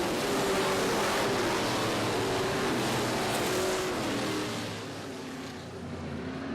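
Limited late model race cars roar at Barrie Speedway during an opening-night race start, a dense, loud wall of engine noise from a pack accelerating together, easing slightly near the end.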